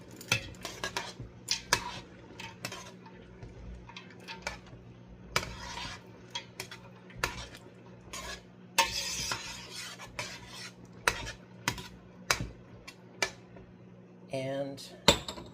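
Two cups of dried pasta get stirred in a pot of liquid for pasta e ceci, with repeated clinks and scrapes of a utensil against metal over a low simmer, and a voice briefly heard.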